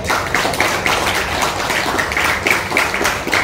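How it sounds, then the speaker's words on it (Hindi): Steady, dense applause from an audience at a Kendriya Vidyalaya Sangathan Hindi Pakhwada event, continuous clapping with no pauses throughout. "एक जोरदार ताली केंद्रीय विद्यालय संगठन की तरफ से"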